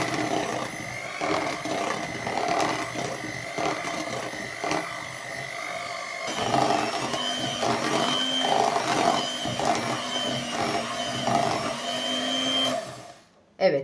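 Electric hand mixer whisking cake batter with pudding mixed in, a steady close motor whir that keeps running with small shifts in pitch and load, then cuts off near the end.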